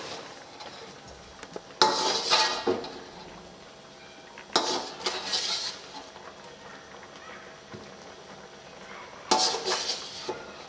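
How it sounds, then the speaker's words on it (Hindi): Beef karahi being stirred in a pot with a spoon, giving three separate bursts of scraping and clinking metal a few seconds apart, close and clear over quiet kitchen background. "इसे मिक्स कर लेते हैं।"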